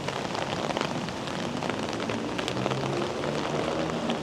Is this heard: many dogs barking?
no